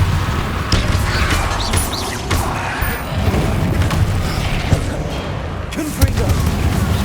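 Repeated spell explosions and impacts from the Confringo spell in Hogwarts Legacy, loud booms and crashes scattered over a busy game soundscape for several seconds.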